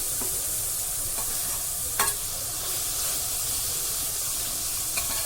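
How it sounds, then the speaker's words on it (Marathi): Ginger garlic paste sautéing in a pan over a medium flame, a steady broad sizzle with a few sharp stirring scrapes near the start and end, close and fairly loud with no talking. "आलं लसणाची पेस्ट आपल्याला परतून घ्यायची आहे गॅस मीडियम फ्लेमवर ठेवलेला आहे"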